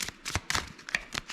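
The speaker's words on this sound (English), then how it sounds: "think we'll start with shuffle my deck here so you guys see this" A deck of action cards for the Fields of Fire war board game is shuffled by hand up close, giving quick riffling bursts of papery flicks in an uneven rhythm over about a second and a half.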